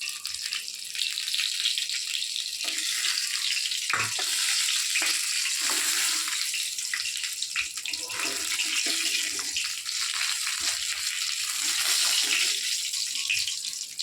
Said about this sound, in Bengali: বাকি মাছগুলো এরকম করে ভেজে নেব।